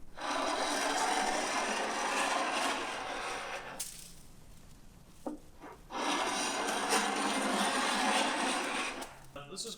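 A long-handled wide tungsten scraper blade, its edges rounded with a diamond file, strips paint from wooden weatherboards in two long, steady rasping passes, loud and close, with a pause and a few light knocks between them.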